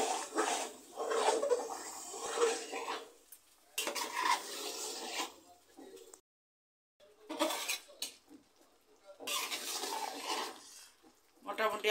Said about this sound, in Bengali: মশলাটাকে এখন আমি ভালো করে মিশিয়ে দিব